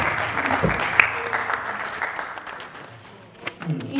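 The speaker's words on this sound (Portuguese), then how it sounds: "Acho que a Catarina merece mais uma salva de palmas pelo filme que acabámos de ver." Audience applause after a film screening, a broad clapping wash that starts strong and gradually thins out before a few louder claps near the end.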